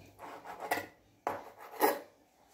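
Knife slicing raw chicken into thin pieces on a board, two short scraping cuts with light clinks, close and soft, with no talking.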